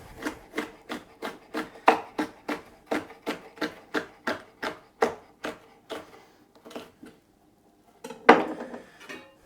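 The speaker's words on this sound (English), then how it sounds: "small sweet pepper that I'm just gonna cut nice and fine" Knife chopping a small sweet pepper finely on a board: a steady run of crisp, evenly spaced cuts, close and fairly loud, then a short pause and a final cluster of louder chops near the end.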